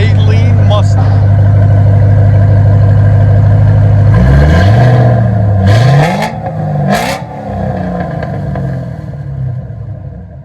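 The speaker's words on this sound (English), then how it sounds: "Flowmaster Super 10 on a SALEEN Mustang." A 2008 Saleen Mustang with a 428 stage 2 supercharged engine and Flowmaster Super 10 exhaust, a loud steady idle rumble followed by several sharp revs that climb and fall back, recorded close up.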